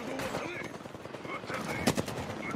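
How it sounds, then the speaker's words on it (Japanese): Rapid gunfire crackles in an Apex Legends match, with bursts of automatic shots rattling at a moderate distance and one sharper, louder report near the end, while players talk over it. "左めっちゃ撃ってる。"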